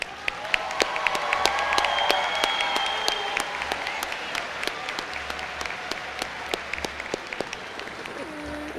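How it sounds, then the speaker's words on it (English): A graduation crowd in a school gym applauds in a broad, sustained wash of clapping, with individual sharp claps standing out as the noise slowly thins, and faint voices underneath. "One more big round of applause,"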